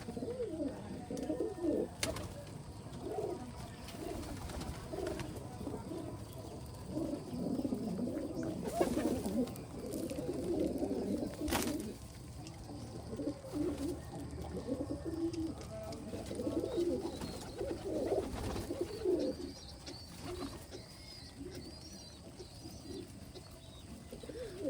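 Rajshahi giribaz racing pigeons in a loft coo repeatedly in low, throaty, overlapping calls at close range, with soft rustling and occasional clicks in the background.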